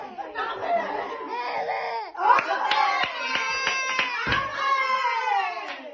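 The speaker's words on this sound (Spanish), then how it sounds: "Aplaude, Guido, que aplauda." Several sharp hand claps ring out amid laughter and excited voices in a church gathering, close and uneven, mixed with a laughing crowd.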